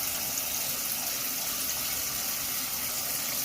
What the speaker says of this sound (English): So this is the rinse cycle.